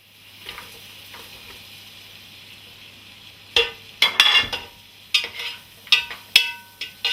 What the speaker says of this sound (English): I can tell the pot is hot, it's sizzling.